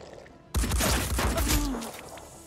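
Gunfire erupts in the tactical video game Phoenix Point, a sudden loud burst of overlapping shots that fades away over about two seconds.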